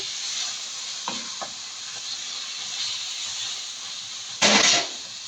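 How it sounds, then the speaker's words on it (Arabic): Shrimp being stirred in a pan with tomato sauce, a steady frying hiss running throughout, a couple of light utensil taps early on and a brief louder burst of sizzle near the end. "وهفضل احور فيها، اقلب فيها عشان الماده الحافظه تطلع منها"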